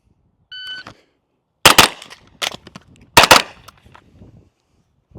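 A rifle fires during a reload drill on the move: a short electronic beep, then several sharp, loud gunshots in two close clusters with brief gaps between, each ringing out briefly.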